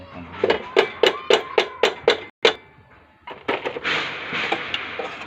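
Sharp metallic hammer strikes on a tractor chain in a rice field land in a quick, even series of about nine blows, followed by a pause, scraping clatter and a few lighter knocks.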